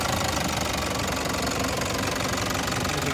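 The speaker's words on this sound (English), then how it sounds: "there is a nice big D4D turbo diesel engine in there. And as you can hear, it is running" Toyota Prado D4D turbo diesel engine from a 2015 VX running at a steady idle, with a dense, even clatter that holds unchanged throughout.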